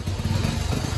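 A motorcycle engine runs at a steady, low, throbbing idle while the bike is pushed along by foot. It is close and fairly loud, with no talking.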